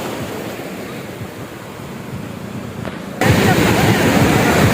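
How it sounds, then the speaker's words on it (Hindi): Ocean waves crash and roll in continuously on a Karachi beach, a broad steady surf roar with wind buffeting the microphone, growing noticeably louder and closer toward the end. "मेरे पीछे आप देखें लहरें किस तरह से आ रही हैं"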